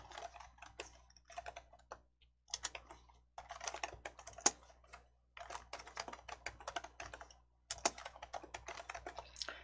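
Text is typed on a computer keyboard in quick bursts of close, crisp key clicks, separated by short pauses, with no other sounds around them.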